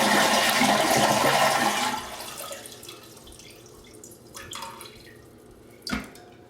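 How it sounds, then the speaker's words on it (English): A household toilet being replaced is flushed, opening with a loud rushing surge of tank water into the bowl for about two seconds, then easing into quieter trickling, gurgling refill and a sharp clunk near the end. "I'm going to go ahead and flush the toilet."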